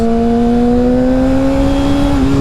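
A Yamaha R6 motorcycle engine drones loudly and close with a steadily rising pitch, then dips and catches briefly near the end during a poorly rev-matched downshift, with heavy wind rush underneath.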